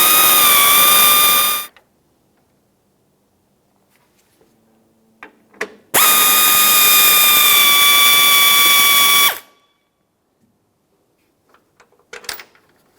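A power tool whines loudly as it removes 10mm bolts from a Ford Flex grille, running in two bursts of about two and three seconds, separated by quiet pauses with small clicks and taps of handling.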